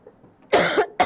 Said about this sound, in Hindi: शायद मेरी खांसी की आवाज़ से आपके कान के पर्दे फट गए होंगे